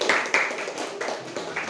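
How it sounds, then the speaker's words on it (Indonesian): Students in a classroom give a short round of scattered clapping after a group presentation, with a few distinct claps and faint voices in the background. "Oke, tepuk tangan dulu."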